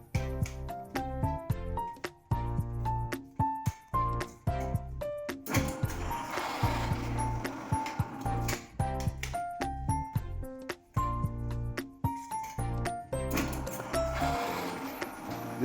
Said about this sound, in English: We'll start the seaming process